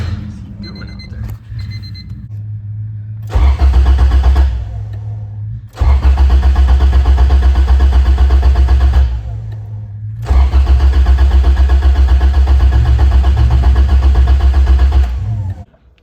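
A B-series engine swapped into a Honda EK hatchback cranks and catches, loud and close, running in three bursts separated by sudden cutoffs, with a high beeping tone and brief sounds before the first start.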